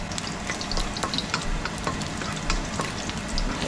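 Pork belly sizzling in a pan and being stirred for adobong papaya, a steady loud crackling fry with frequent small pops and scraping stirs, close and without talking.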